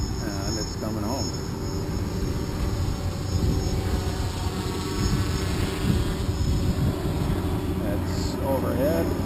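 A DJI Phantom quadcopter hovers overhead, then descends while returning home on failsafe. A steady, continuous propeller whir and hum runs throughout, moderately close, beneath a voice.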